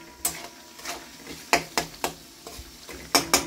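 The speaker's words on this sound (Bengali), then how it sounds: "তার সাথে একটু ভালো করে মিশিয়ে দিই" Food being mixed in a frying pan with green chilies, sharp clacking taps of a spatula against the pan, around nine distinct strikes at uneven intervals over a faint sizzle, close and clear.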